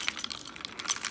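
Keys jangle and clink metallically as they are fitted onto a KeySmart key organizer, a brief close rattle with no voice.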